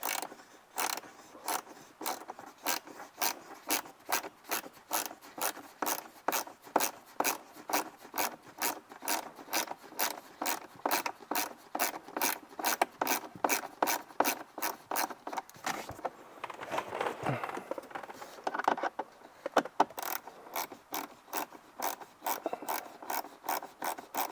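A ratcheting hand tool backs out the screws of a tweeter bracket inside a BMW M5, giving rapid, evenly spaced close clicks that run almost continuously, with a brief pause and rubbing scrape partway through.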